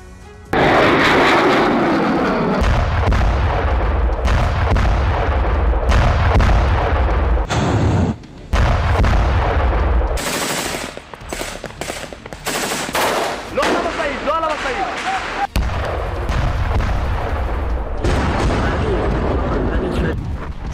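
Heavy artillery bombardment in Gaza: repeated deep booming blasts and rapid bursts of gunfire, loud and rolling across the whole stretch with short gaps between volleys.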